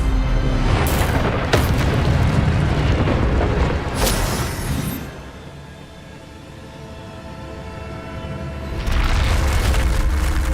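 An Incendio fire spell is cast in Hogwarts Legacy, giving loud booming fiery bursts with whooshing roars that fade into a low rumble before another burst erupts.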